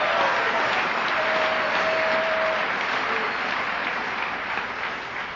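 An audience at an Alcoholics Anonymous talk applauds steadily, a dense wash of clapping that holds for several seconds and thins slightly toward the end.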